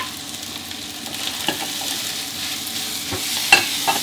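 Fried rice with nam, a fermented pork, is stir-fried in a pan with a continuous close sizzle, soft scraping stirs and a few louder clacks of the utensil against the pan.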